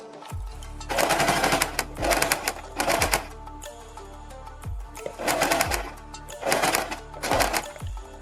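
A sewing machine stitching fabric strips onto a kurti neck, running in short rapid bursts of about a second each with brief pauses between, close and clear.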